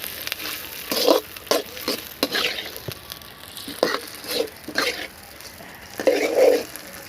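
Goat brain sizzles and fries in a pan while being stirred, with irregular scraping stirs and bursts of crackling over a steady frying hiss, close and fairly quiet.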